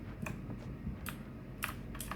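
A typewriter in the video game Alan Wake clacks with a few sparse, separate keystrokes, sharp clicks spaced irregularly over a steady low background hum.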